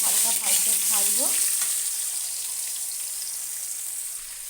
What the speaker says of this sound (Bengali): এবার ওই তেলে আমি একে একে আলু আর কাঁচা কলাগুলো দিয়ে দেবো। দিয়ে একটু হালকা ভাজবো।